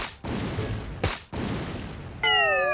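A barrel of oil explodes beside an armored vehicle in the video game PUBG, with loud broadband bursts, a sharp blast near the middle and a rattling gunfire-like texture throughout, followed by a brief ringing tone at the end.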